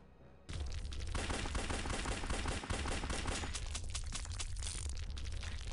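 Gunfire from weapons in the video game Larva Mortis bursts in suddenly and keeps going as rapid machine-gun-like shots, loud and dense, over a booming low-end rumble for several seconds.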